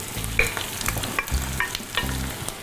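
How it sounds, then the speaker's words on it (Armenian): Liver and onion fry over high heat, a loud continuous sizzle with rhythmic scraping strokes of a spoon stirring the pan, repeated three times, close and alone. "Եվ ուժեղ գրակի վրա, այսպես խառնելով, տապակում ենք։"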